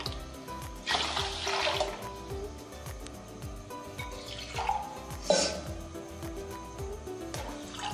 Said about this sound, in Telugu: ఇప్పుడు ఒక గ్లాస్కి 2 గ్లాసులు నీళ్ళు పోసుకోవాలి.